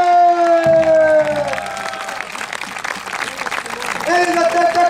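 Outdoor festival crowd applauding and cheering for athletes at a Forêt de Sénart event, steady clapping under a loudspeaker announcer's voice with music tones fading in and out.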